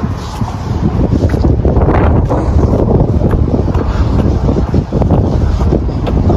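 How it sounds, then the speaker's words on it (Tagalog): Strong storm wind roars and buffets the microphone outdoors, a loud continuous rushing with gusty surges and no pauses throughout. "Lakas ng hangin mga katips."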